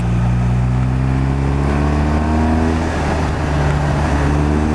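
Sports motorbike pulling hard on a bumpy road, its engine a loud, close, steady drone that climbs in pitch through the gears, with heavy wind rush and no voices.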